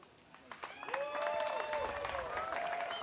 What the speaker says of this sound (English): Why did Simon get more claps than anyone else?